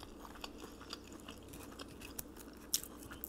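Quiet, close chewing of crunchy seaweed, cheesy ramen and rice cakes, with soft wet bites and a few sharper crunches near the end, no talking.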